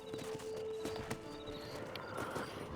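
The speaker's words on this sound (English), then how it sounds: "And hitch my horse right here." A horse in the video game Red Dead Redemption, quiet hoof clip-clops and snorts with a brief whinny, faint and close over low game ambience.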